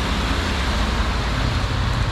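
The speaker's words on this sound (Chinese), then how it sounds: "不还是很多车上来啊" Traffic climbs a mountain road in the Cameron Highlands, with a continuous close rumble of car and heavier vehicle engines mixed with broad road noise and no voices.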